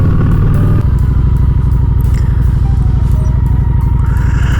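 A motorcycle engine runs steadily while riding, a loud, close, continuous low rumble with a brief shift in pitch early on and constant tone afterward, no talk over it.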